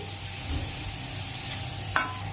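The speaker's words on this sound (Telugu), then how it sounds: "ఈ పోపు అంతా కలిసేలాగా మంచిగా ఒకసారి కలిపేసుకోండి" Cluster beans with tempering spices sizzle steadily in a hot pan while a utensil stirs, with one brief scraping clink near the end; no talking.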